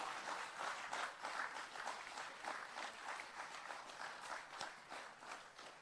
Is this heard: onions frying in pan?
no